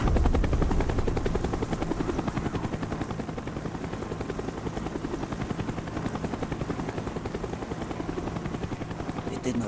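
A helicopter in the shooter game Call of Duty Black Ops thunders close by with a loud, continuous rotor chop that holds steady throughout.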